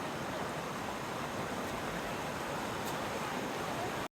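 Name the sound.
Chapra waterfalls cascading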